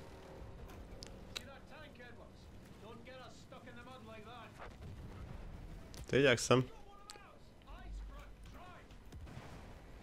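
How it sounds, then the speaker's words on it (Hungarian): Artillery fire in the video game Battlefield 1, with distant booms rumbling through the battle and one loud close blast midway, all under steady talk from a player. "az artillery fire már megy nagyon-nagyon nagyban"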